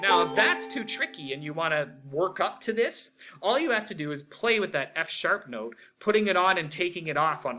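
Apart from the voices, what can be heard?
No everyday noises stand out.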